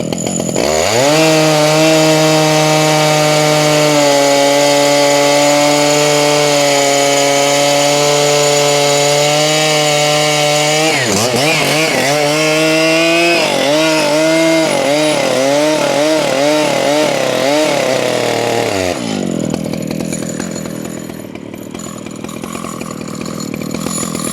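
Chainsaw milling through a cedar log outdoors in a forest, loud and close, holding a steady high engine whine under load, then surging and revving unevenly before dropping toward idle near the end.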